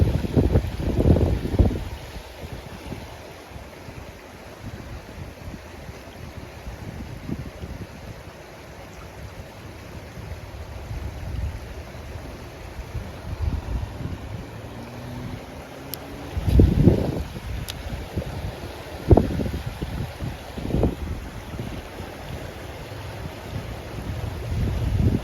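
Strong gusting wind buffets the microphone beside a river while fishing, roaring in uneven bursts that swell and fade, loudest near the start and in the middle and end.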